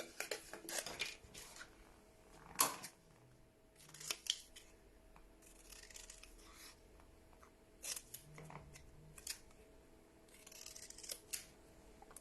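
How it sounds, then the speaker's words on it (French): Scissors cutting paper card stock for a folding fir-tree card, several separate snips and crisp slicing strokes, close and quiet with pauses between cuts. "Donc là, je viens couper comme ça"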